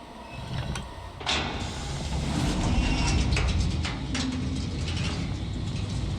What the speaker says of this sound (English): maybe we open this door